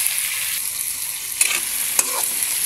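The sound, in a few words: sautéing garlic, onion, ginger and tomato in a pan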